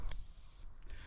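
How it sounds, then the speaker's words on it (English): One steady, piercing blast about half a second long comes from an Acme Alpha dog whistle. It is loud and close, with a clean single pitch, and is heard alone against near silence. "Now that blast on this whistle, on this particular whistle, the Acme Alpha"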